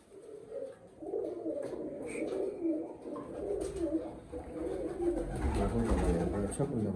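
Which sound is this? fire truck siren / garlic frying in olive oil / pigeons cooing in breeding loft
pigeons cooing in breeding loft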